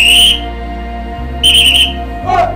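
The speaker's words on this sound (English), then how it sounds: "drum major, whistle." A drum major's whistle with a marching band, the FAMU Marching 100: two shrill, sustained blasts followed by a shorter, lower chirp, loud and close over a steady low hum.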